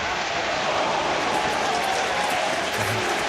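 A large football crowd of over 17,000 at Pittodrie stadium roars and cheers, a dense, continuous wash of noise that holds loud and unbroken throughout.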